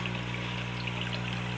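A machine pours a steady stream of water at a prawn and small-fish spot, a constant splashing flow with a low mechanical hum beneath it, fairly faint and without voices.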